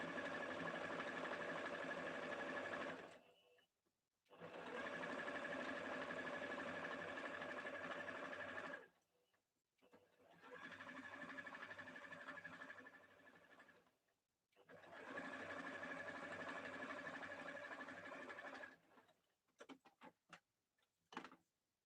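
A sewing machine stitches turban fabric in four long continuous runs, each lasting a few seconds with brief stops between, followed by a few short taps; it runs close and steady with no voices.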